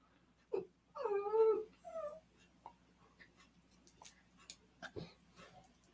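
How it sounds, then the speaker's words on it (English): A dog whimpers and cries for a treat, with a few short whining calls early on followed by softer yips and faint sounds over a quiet room background. "What's the cry for, right? No, I'm not giving you another treat. My God, this dog is just a treat monster."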